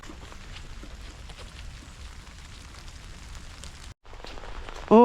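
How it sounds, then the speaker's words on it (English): Steady rain falls on a wet morning in the hills around Oakley, Fife, a dense hiss of drops on surfaces that drops out briefly near the end before a louder burst. "it's a rainy morning"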